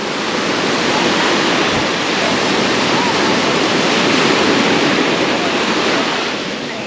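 Surf at Nagore beach rolls in as a loud, continuous broadband wash of breaking waves, steady throughout with no pauses and no voices.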